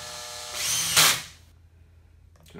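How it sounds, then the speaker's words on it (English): A cordless drill fitted with a T30 Torx bit gives one short, high whirring burst that rises and cuts off after about a second, followed by near quiet. "Got my 30, Torx 30, T30 set up in this drill."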